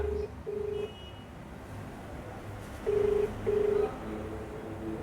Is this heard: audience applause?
no